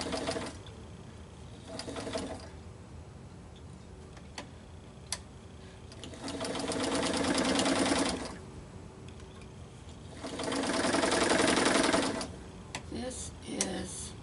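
A sewing machine stitches around the edge of fluffy fleece in several bursts of rapid mechanical whirring and ticking, with quiet pauses and faint clicks between runs, close by.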